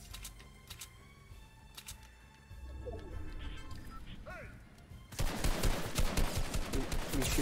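Gunfire in a battle royale video game, with bursts of rapid shots that grow dense and loud in the second half over a steady background.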